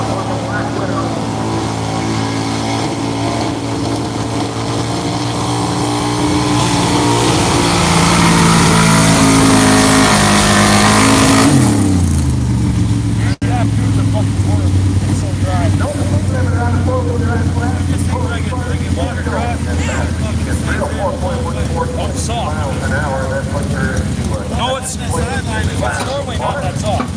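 Race trucks with passengers roar around a dirt track at a season championship in Rockwell, Iowa, a loud sustained engine drone that rises in pitch and then drops away, while an announcer talks over it.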